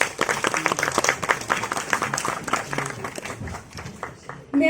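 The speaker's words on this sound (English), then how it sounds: "A round of applause, please." An audience at a talk on Jain manuscripts and textiles claps as a guest walks on stage, a burst of applause that is strong at first and thins out toward the end, with a brief voice at the very end.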